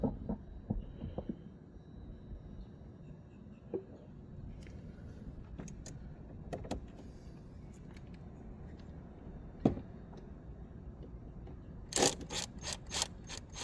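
A ratchet loosening 10 and 12 mm bolts on the intake manifold of a 2012 to 2017 Kia Soul GDI engine, with scattered faint clicks followed by a quick run of sharp ratcheting clicks near the end.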